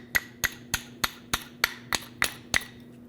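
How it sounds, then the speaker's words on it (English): Eight sharp metallic hammer taps in an even, steady rhythm, knocking out a stuck rear brake caliper slider on a 2009-2010 Dodge Ram 1500, close and clear, with nothing else around them. "Mine is a little bit stuck, so I'm using a hammer to push it out."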